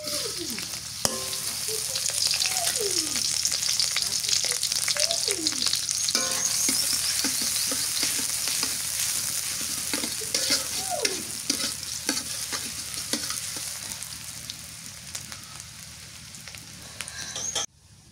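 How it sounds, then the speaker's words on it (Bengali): Kaikta fish with potato and egg is fried in a pan. A loud, continuous sizzle runs throughout, with repeated scraping strokes of a spatula stirring the food. "কাইটা আলু ডিম দিয়ে ভাজি করি"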